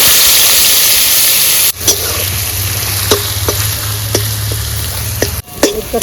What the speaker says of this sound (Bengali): একটু তেল দিয়ে নিচ্ছি, দুটো লঙ্কা ফোড়নে দিয়ে দিলাম।